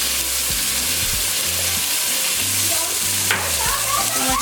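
Seasoned meat, salted and peppered with Italian seasoning, sizzles loudly and steadily in a hot pan, a dense continuous crackle with occasional scrapes of stirring.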